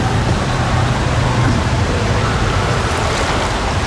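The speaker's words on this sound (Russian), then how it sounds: "Волны, волны брызжут." Waves splashing on the shore, a loud steady wash of surf filling the whole clip with no pauses.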